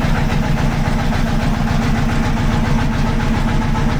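A boat engine runs steadily during a boat ride, a loud, close, continuous low throbbing drone with a regular chugging pulse and no talking.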